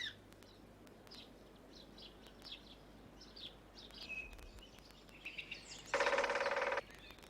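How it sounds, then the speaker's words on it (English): A great spotted woodpecker drums in a garden: one rapid, dense roll of hammering near the end, loud and close, after a stretch of scattered bird calls and chirps. "It's the drumming of the great spotted woodpecker."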